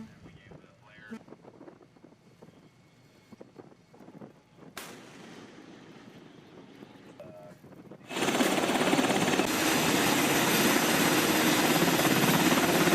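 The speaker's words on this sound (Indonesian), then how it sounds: "Sejumlah helikopter dari USS Tripoli terlihat lepas landas saat dikerahkan oleh CENTCOM." Military helicopters lifting off from the deck of the amphibious assault ship USS Tripoli: a quieter stretch of rotor and wind noise gives way to a loud, steady roar of rotors and wind buffeting.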